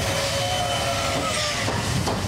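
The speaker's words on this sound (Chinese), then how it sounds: "CK124 蒸汽小火车缓缓进入吉吉站。" The CK124 steam locomotive rolls slowly into Jiji station on the Jiji branch line in Nantou, with a continuous rumbling, hissing rail noise and faint wheel clatter at moderate distance.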